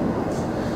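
Inside a moving train, a steady low rumble and broadband rolling noise with no distinct events, continuous throughout.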